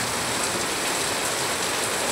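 Steady, dense rain pours down continuously, a close, even hiss of drops striking a surface with no pauses.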